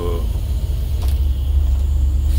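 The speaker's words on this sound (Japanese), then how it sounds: "なんかバスはブレーキはガッツリ効きます" A bus runs along a mountain road on the Kiso route near Nomugi Pass, giving a steady, close low engine and road rumble, with a brief hiss around the middle that may come from its brakes.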